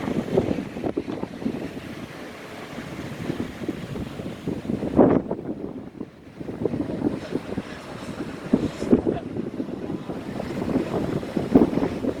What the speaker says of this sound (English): Actually, a fair few waves coming through this morning.